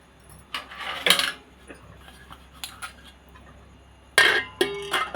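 A metal idli steamer pot clanks and rattles as it is handled, in a few sharp bursts separated by quieter moments.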